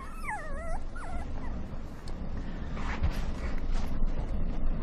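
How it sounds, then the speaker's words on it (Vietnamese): A puppy gives a few high, wavering whimpers up close, then falls quiet beneath a steady background rumble. "Chó ở đâu ra đấy?"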